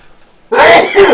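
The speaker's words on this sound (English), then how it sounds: "I'm going to turn around and sneeze." A single sharp sneeze bursts out after a half-second of near silence during an indoor conversation, close and loud, with a second smaller burst trailing just after.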